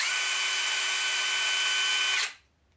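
A DeWalt DCF891 1/2-inch mid-range cordless impact wrench runs steadily in mode 3 with a loud, continuous high-pitched whir and hum for just over two seconds, then cuts off abruptly into near silence.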